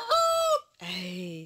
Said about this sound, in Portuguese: Eita, o galo aqui, ó.